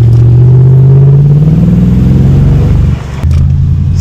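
A 6-litre V8 car engine in a video game rumbles loudly and steadily, revving up and dropping briefly before settling back into a deep idle.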